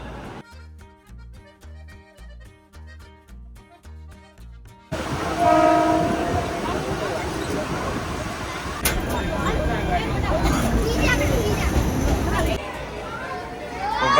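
A train bound for Karjan passes close by, starting with a rhythmic clatter of wheels before swelling into a loud, sustained rumbling roar.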